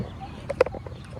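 A hen clucks in a rural village courtyard, two or three short throaty clucks close by over quiet household background noise.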